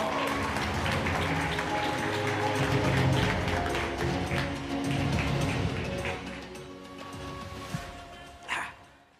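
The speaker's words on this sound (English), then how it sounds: "Please give them a round of applause." A conference audience gives a loud, dense round of applause for speakers on stage; the clapping stays full for several seconds, then thins and fades out.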